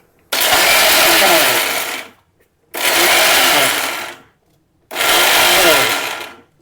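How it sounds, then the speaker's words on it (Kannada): A mixer grinder coarsely grinds peanuts for chutney powder in three loud pulsed bursts of about two seconds each, with short silent gaps between the on-off runs. "ಇದನ್ನು on and of on and of ಮಾಡಿ ರುಬ್ಕೋಬೇಕು"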